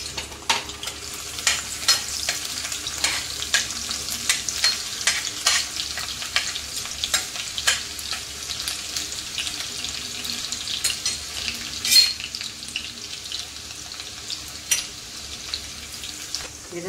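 Crushed garlic frying in hot oil until brown, a steady close sizzle with scattered pops and occasional stirring scrapes throughout, no voices.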